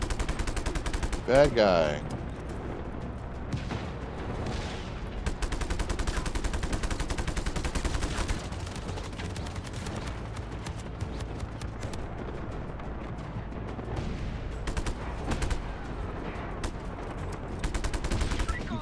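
Enemy gunfire in Just Cause 3, dense rapid bursts of automatic shots crackling continuously throughout, loud and close, with a voice speaking briefly over the shooting.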